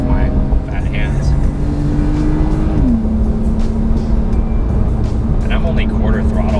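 A 2020 Porsche 911 Carrera S (992) pulls steadily under acceleration in real-world driving, its engine and intake howl droning loud and close with a pitch that climbs, dips at a gear change, then holds steady.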